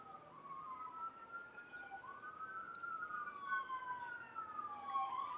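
Emergency vehicle sirens wail near a condo, several rising and falling tones overlapping at a distance, fairly faint over a low background hum.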